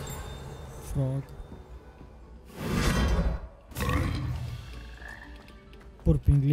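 Frog croaking in the video game Hogwarts Legacy, with two long rasping croaks in the middle and shorter sounds at the start and end, loud and close, with someone speaking around them.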